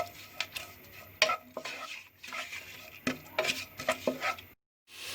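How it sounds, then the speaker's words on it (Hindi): Onions lightly frying in a pan for a mutton mandi, with a spoon stirring and scraping against the metal, soft sizzling underneath and irregular clinks close by, no talk. "प्याज को डाल दिया, हल्का सा फ्राई करेंगे।"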